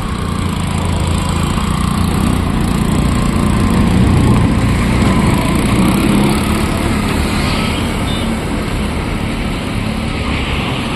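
Engine of a two-wheeler motorcycle converted into a bike trolley with reverse-forward drive and hydraulic dumping, running at a steady, loud buzzing drone close by, holding even pitch for the whole stretch.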